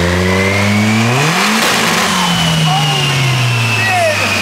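A turbocharged rear-wheel-drive Honda Civic engine revs hard on a dyno at 16 PSI of boost, loud and close, its pitch climbing then dropping and rising again, with a turbo whine threading through and people talking over it.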